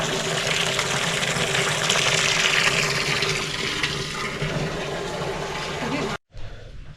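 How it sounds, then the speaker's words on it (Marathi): A loud, continuous rush of borewell water sprayed from a hose onto laterite stones runs for several seconds, with a low pump-like hum underneath, then cuts off abruptly near the end. "बोरवेलला प्रेशर बघा थोडं आणि सर्व आता चिऱ्यांवरती सर्व पाणी मारायचं काम"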